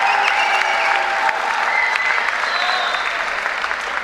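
A crowd applauds the finalists at the 2014 US national table tennis men's singles championship, a loud, continuous wash of clapping that carries steadily for several seconds.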